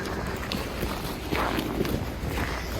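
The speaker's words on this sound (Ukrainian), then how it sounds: "Сніг скрипить під ногами." Footsteps crunching and creaking over cold packed snow outdoors, a steady rhythm of soft crunches under constant wind and street noise, with no talking.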